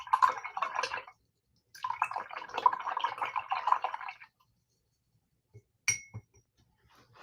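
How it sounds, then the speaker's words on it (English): A paint brush swished and tapped in a water jar while painting a jack-o'-lantern, giving two long bursts of wet clinking and sloshing, then a pause and a few brief taps against the glass. "I'm gonna wash my brush"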